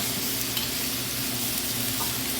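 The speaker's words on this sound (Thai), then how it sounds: "ผัดลงไปเลย" Fresh fatty pork stir-fried with ginger in a hot pan gives a loud, continuous sizzle and crackle, with faint scraping of the stirring, and no voices.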